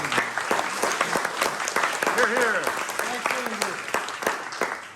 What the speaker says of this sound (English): we owe a round of applause to Valerie and Absolutely